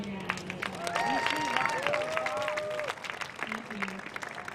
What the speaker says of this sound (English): let's give a round of applause for Adriana